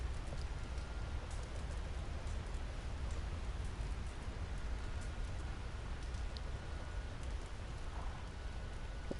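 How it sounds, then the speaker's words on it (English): Rain falls steadily in the video game Red Dead Redemption 2, an even, continuous hiss of drops with a low rumbling undertone, unbroken from start to finish and with no voices over it. "It's gonna rain."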